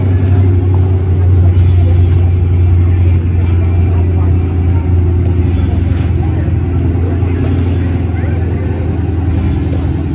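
A green Chevelle Super Sport muscle car engine idles at a car show, producing a loud, steady low rumble with a deep throb, while voices murmur in the background.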